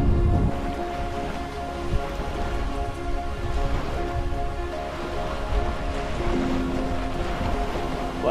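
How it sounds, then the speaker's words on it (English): Waves wash steadily onto the sandy shore of Lake Mansarovar in a continuous, fairly soft rush of water that holds an even level and stands alone without talk. "It's more waves here."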